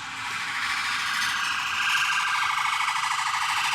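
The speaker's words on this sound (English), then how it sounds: "That is the weirdest alarm sound I've heard in my life." A strange warbling alarm siren, loud and continuous, with a fast wavering pulse that swells slightly over a few seconds, heard alone without any voices.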